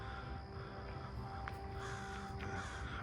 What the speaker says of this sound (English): birds love the nest in here